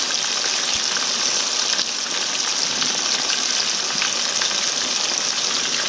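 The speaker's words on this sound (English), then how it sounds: "And the grease are frying, is frying down in them notches." Bream and crappie fish frying in hot grease give a loud, steady, close hiss and sizzle with dense crackling throughout, and no voices.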